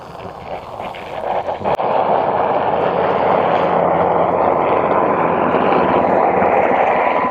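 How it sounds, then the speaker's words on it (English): A Coast Guard helicopter passes overhead near a beach, its rotor and engine noise building into a loud, steady drone that fills the scene after a brief knock near the start. "It was a Coast Guard helicopter."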